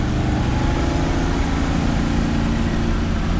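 A 1968 Corvette shooting brake with a 572 big-block V8 and a black-painted underside idles steadily, a loud, close, continuous low rumble with an even pulsing lope and no talk.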